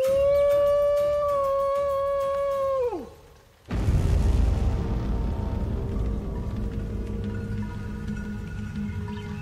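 A voice imitates a Hairy Man (Bigfoot) call, a loud sustained howling wail held for about three seconds before sliding down and cutting off, followed by rough outdoor rumble and noise in the Alaskan woods near Port Chatham.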